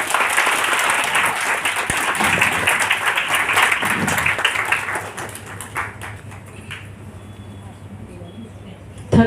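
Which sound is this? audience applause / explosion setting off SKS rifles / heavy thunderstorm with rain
audience applause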